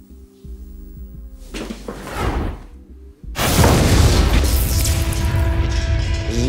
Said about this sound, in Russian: В результате взрыва Август выжил